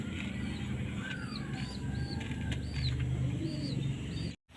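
Off-colour pigeons cooing up close, with soft, repeated short calls and chirps over a steady low background murmur, ending in a brief drop to silence.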